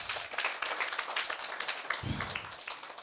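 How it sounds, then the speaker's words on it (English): An audience of schoolchildren on an excursion breaks into brief steady clapping, a dense patter of many hands at moderate level. "Can we clap for him?"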